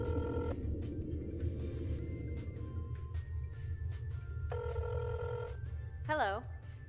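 A payphone rings in a video game during a call to order beer: two bursts of electronic ringing over a steady low rumble, then a brief warbling tone near the end.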